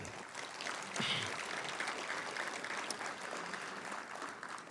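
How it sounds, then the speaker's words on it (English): Audience at a North Carolina gathering applauds the spouses of public servants, a steady, moderately distant wash of clapping that holds evenly throughout without voices. "So a round of applause to all the spouses of public servants."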